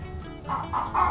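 Chickens clucking inside a walk-in backyard chicken coop fitted with roost bars, a few soft, close clucks rising over a low steady background hum.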